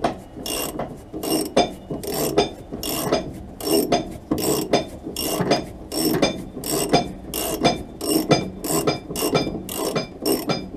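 Ratchet working on the rear axle bolts of a Rover P6 V8, a close run of rapid clicking bursts in an even back-and-forth rhythm, with metallic rasping between strokes, no talk.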